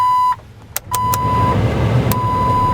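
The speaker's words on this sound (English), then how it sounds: "turn that car on." A 2001 Jeep Wrangler engine turns over and settles into a steady low idle, while a few sharp electronic beeps and a held chime tone sound over it.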